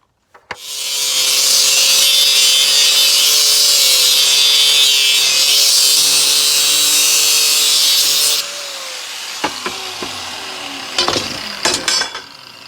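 An angle grinder without a guard cuts in a shed, giving a loud, sustained high whine for about eight seconds that then stops, followed by a few sharp knocks and scrapes nearby.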